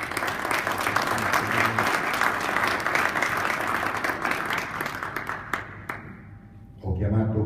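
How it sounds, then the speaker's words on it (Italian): Audience applause at an Italian corporate presentation, a dense steady clapping that fills the room for about six seconds, then thins and fades, with a voice starting to speak near the end. "Un applauso, Vittorio."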